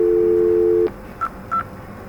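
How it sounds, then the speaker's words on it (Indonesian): A simulated IP phone in Cisco Packet Tracer plays a steady dial tone that cuts off, then two short beeps from dialing a number, clear and close. "Misalkan kita telepon nomornya IP phone 0 itu 222."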